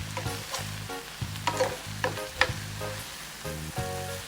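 Bitter gourd (ampalaya) sautéing in a pan, a steady sizzle and frying hiss broken by spatula stirs and scrapes with a few sharp clinks, close and moderately loud, no talking.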